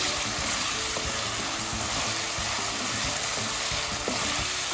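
Potatoes fry in a pan with vegetables over high gas flame, a steady dense sizzle with occasional stirring scrapes running continuously, close and fairly loud, no voices.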